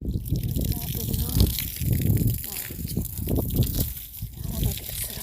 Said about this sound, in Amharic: ግቢ ላጥብ ነው፣ ቦታውን ላጥብ ነው።